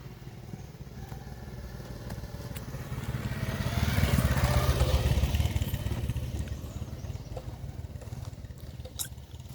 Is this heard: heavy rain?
no